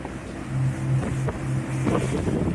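A small boat off Amble surges forward as a big breaking wave lifts and pushes it, bringing a loud rush of water and wind noise with a low engine drone underneath.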